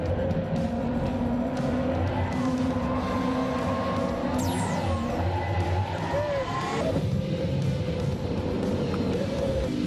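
Inside a Hyundai Ioniq 5 N, the N e-Shift system plays a loud synthetic engine roar that climbs and drops with each simulated gear change, with brief chirps and a voice speaking over it.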